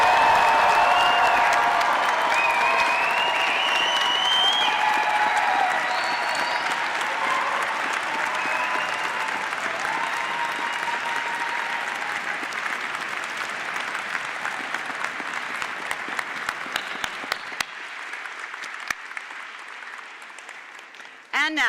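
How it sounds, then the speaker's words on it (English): A large audience applauds the June 2026 graduates at an SFU convocation ceremony, a steady wash of dense clapping that holds for a long stretch and then thins out and fades toward the end. "please join me in applauding the June"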